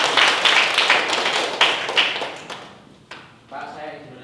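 A group of people clap together during a classroom discussion, loud dense clapping for about two and a half seconds that then thins to a few scattered claps and fades.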